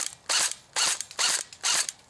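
An airsoft gun with blowback action fires four sharp semi-auto shots at an even pace, each a loud, bright mechanical snap with a short clack, separated by near silence.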